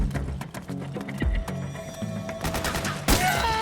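Rapid suppressing gunfire in the war game Metal Gear Solid 4, loud, sharp shots in quick irregular bursts with battle noise underneath and a heavier blast near the end.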